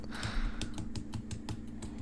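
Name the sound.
tapping boiled eggs to crack shells for peeling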